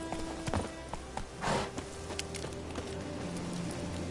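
Hoofbeats of the horse Roach clip-clopping in The Witcher 3 game, a fairly steady run of near hoof strikes with a brief snort or whinny-like burst midway, set against a faint game ambience.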